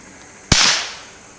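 A single rifle shot from a Ruger American with a Bushnell scope, fired with CCI quiet ammo, gives one sharp, fairly muted crack with a short decaying tail outdoors, alone without talk.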